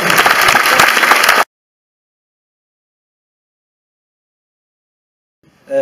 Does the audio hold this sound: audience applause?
yes